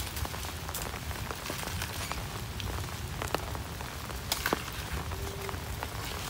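Steady rain pours down outdoors in a downpour, a dense even hiss of drops with scattered sharper pattering hits throughout, fairly soft and with no voices.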